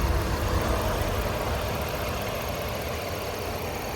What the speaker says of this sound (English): You can see that V6 runs nice and smooth.